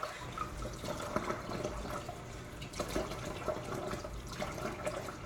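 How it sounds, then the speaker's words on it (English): Water is poured into bagel dough in a home kitchen, a soft continuous trickling and splashing with faint clinks of a bowl or utensil, close and quiet with no talking. "so I'm going to put a little more water in"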